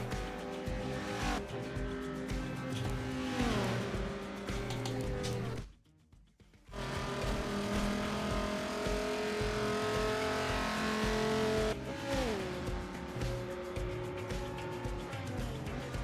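Race cars in Forza Motorsport 7 on a Bernese Alps circuit: loud engines whine and rev continuously, shifting pitch as cars pass, with a brief near-silent gap midway before the roar resumes.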